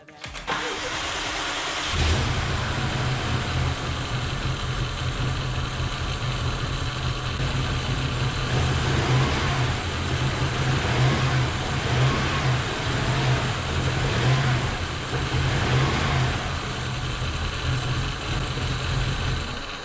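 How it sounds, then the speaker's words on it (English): A rebuilt BMW 750i engine fires up after a quiet moment, then runs with an uneven, slightly rough drone and occasional revs, fairly loud and close, with faint background sound. "The engine is running rough a little bit because of a few bad connections, but I got that sorted and here it runs now."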